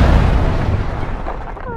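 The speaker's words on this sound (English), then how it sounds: "Grenade!" A loud grenade explosion in the zombie game Dead Island opens with a heavy, close boom and rumbling decay that fades over the next second or so.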